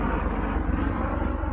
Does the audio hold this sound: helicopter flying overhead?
yes